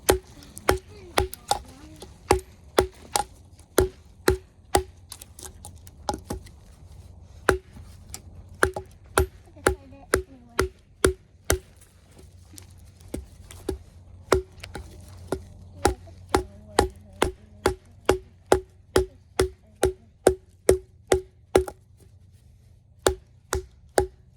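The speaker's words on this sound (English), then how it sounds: "Actually, I can go ahead and do some light chopping here too." Light chopping with a Work Tuff Gear Little Evil Fighter knife in a bushcraft setting: a long run of sharp, evenly spaced blade strikes into wood, close and loud, with brief pauses between bursts.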